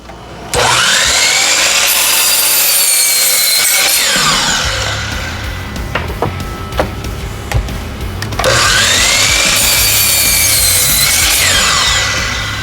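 A power saw cuts through 1x6 wooden boards in two long, loud, close passes, with a quieter gap between them holding a few brief knocks and clicks.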